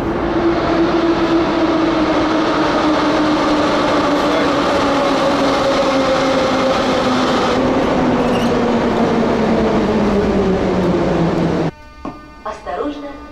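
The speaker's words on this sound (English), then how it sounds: "I think that's a train coming" A Moscow metro train roars into the station with a falling whine as it slows, then cuts off abruptly into quieter clicks and shuffles.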